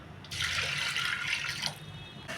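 Water runs steadily into a vessel while toor dal is washed and water is poured in: a close, continuous splashing flow of about two seconds that starts and stops abruptly, with no talking.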